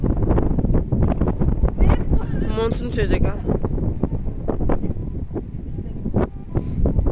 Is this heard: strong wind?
yes